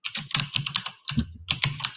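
Fingers typing on a computer keyboard during a live futures-trading session, bursts of quick, close key clicks in short rapid runs separated by a brief pause.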